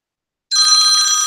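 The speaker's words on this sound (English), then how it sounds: "My phone will ring." A phone called by an auto-dialer starts to ring about halfway in, a loud, bright electronic trill that holds steady to the end after silence.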